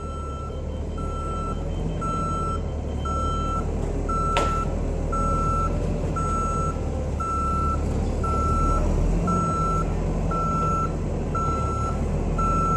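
A truck reversing at a building site sounds a steady series of evenly spaced reversing beeps over its rumbling engine, loud and sustained, with one brief sharp click partway through.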